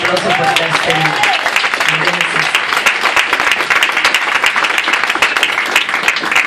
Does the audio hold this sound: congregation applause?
yes